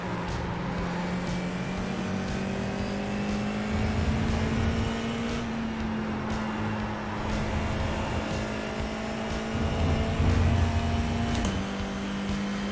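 Race car engines in an iRacing sim race, a steady loud drone holding one pitch with slight shifts and brief surges as cars run close together, continuous throughout with no talking.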